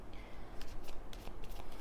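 Energy oracle cards being shuffled and drawn, a soft papery riffle with repeated brief flicks and slides across nearly two seconds, close by and moderately quiet, with no talking.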